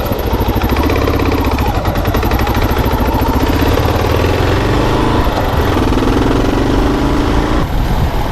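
Motorcycle engine idling and revving loudly up close as the rider sets off on a bike with off-road suspension, a steady throbbing drone throughout with no talking.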